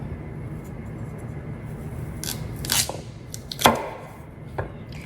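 Knife slicing a baked side dish into pieces, a few crisp cutting strokes and sharp clicks against the board, close and quiet, with no talking.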